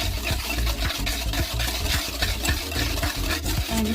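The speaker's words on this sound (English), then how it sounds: "all you need to do is just whisk" A whisk beats cheesecake batter in a bowl with quick, steady strokes. The close, continuous scraping and sloshing rhythm carries on without any voices over it.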